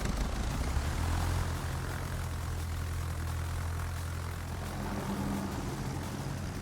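Propeller planes make an attack run in a naval combat game, a loud sustained engine drone that swells and then eases into a steadier hum, with no voices.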